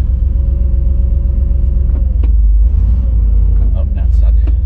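A dually pickup truck driving in two-wheel drive, steady low engine rumble and road noise, loud and close throughout, with a few brief rattles and a voice speaking over it.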